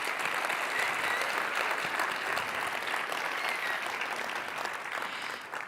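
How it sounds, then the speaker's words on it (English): Applause from the audience at TechCrunch Disrupt 2025 for the Startup Battlefield 200 companies: a dense, steady wash of many hands clapping that fills the hall and fades slightly toward the end. "So please give a huge round of applause to all of the Startup Battlefield 200 companies."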